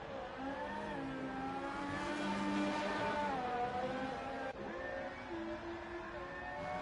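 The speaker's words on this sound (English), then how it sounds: "you can hear him whining out that McLaren engine" A McLaren-engined Formula 1 car on a fast lap in Sochi whines at high pitch, the engine note rising and falling through gear changes, loud and continuous with no talk over it.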